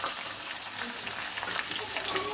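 Ground peanuts and garlic sauté with green chillies in hot oil, a dense, bright, steady frying hiss close by with faint stirring throughout.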